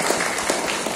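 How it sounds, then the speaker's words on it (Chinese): An audience at a Buddhist hall lecture claps in a brief, steady patter of applause, moderately loud and continuous, with no talking over it. "甲掌声鼓励一下。"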